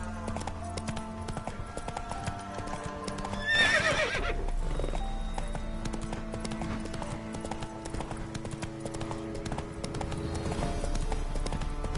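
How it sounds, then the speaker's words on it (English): Hooves of the horse Roach galloping in The Witcher 3: Wild Hunt, a steady clip-clop rhythm running throughout, with a whinny near the start over game ambience and music. "Run, Roach."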